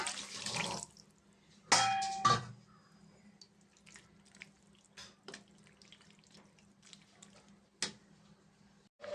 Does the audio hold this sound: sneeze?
no